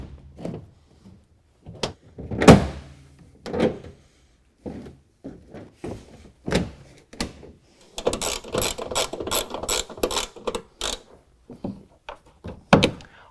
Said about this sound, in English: we're going to go ahead and reinstall the plastic bed liner the exact same way that it came out